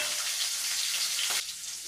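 Garlic and green chilies fry in oil in a kadai for a fresh green pea dal, giving a bright continuous sizzle that drops in loudness near the end as a stir quiets it.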